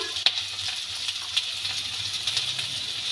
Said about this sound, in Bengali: সবজিগুলো ভালো করে নেড়ে চেড়ে ভেজে নেব